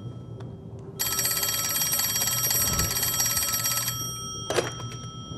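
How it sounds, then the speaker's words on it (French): A telephone bell rings loudly and continuously for about three seconds, then a brief second burst, close and clear over a quiet room, no talk. "regardez le temps que met Thomas Shelby à répondre au téléphone"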